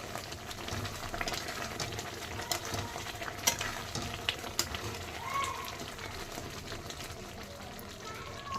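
Baby potatoes, with one broken potato added for the gravy, cook in a pan for a masala curry, giving a steady low bubbling sizzle with faint stirring scrapes throughout.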